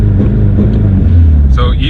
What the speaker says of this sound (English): now I'm going to put my pedal to the floor